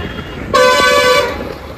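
Street traffic in Gajraula, India, with a crowd gathered nearby; a single sustained car horn blares loudly for about a second over a bed of road noise and background chatter.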